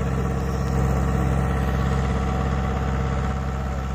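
A tractor engine runs in low gear during a field demonstration, giving a steady, loud, low rumble that stays even throughout with no voices.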